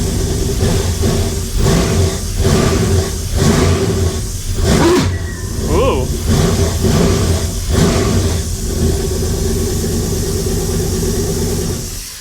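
A junk car engine idles with a steady, rough drone and a mechanical noise blamed on the torque converter hitting the ring gear, continuous and fairly loud throughout with no talking over it.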